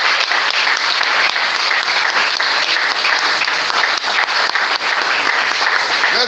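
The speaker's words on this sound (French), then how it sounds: "Acclamez très fort le roi des rois." Loud, dense applause from a church prayer gathering, sustained clapping that fills the whole stretch at an even level with scattered crowd sounds mixed in.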